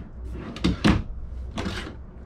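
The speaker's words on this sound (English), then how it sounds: "three drawers." Kitchen drawers in a motorhome sliding open and shut, a few quick close knocks in succession, fairly near and alone without talk.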